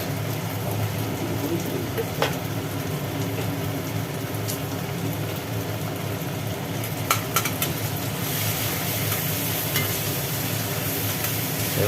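Chillies and turmeric stirred and fried in hot oil, a steady sizzle running throughout with occasional scrapes and clinks of the utensil, fairly close and moderately loud, with no talking.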